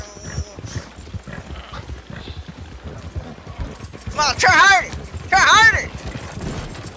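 Horse galloping in Red Dead Redemption 2 Online, rapid rhythmic hoofbeats thudding under someone shouting, with a couple of louder bursts of other game noise layered over the gallop.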